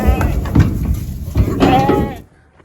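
Sheep out on a paddock bleat close by, with a few bleats over rustling and knocking before the sound drops away.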